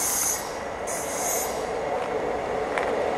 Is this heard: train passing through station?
yes